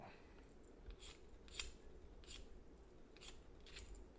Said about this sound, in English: you scrape the magnesium